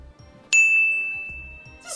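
A single bright notification bell ding strikes suddenly and rings on with a clean sustained tone that slowly fades, heard alone over a quiet background.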